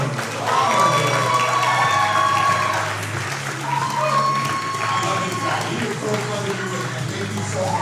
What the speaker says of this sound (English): a big round of applause to our great speakers for tonight